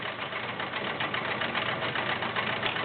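A Kenmore 1625 sewing machine runs a stretch stitch, its motor and needle producing a steady, loud mechanical whir with a rapid rhythmic chatter throughout, no voices.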